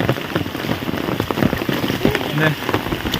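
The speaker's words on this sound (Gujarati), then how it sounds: "આટલો વરસાદ આવી ગયો" Heavy rain pours steadily in a village, a dense continuous hiss of drops drumming on surfaces, close and loud, with faint voices underneath.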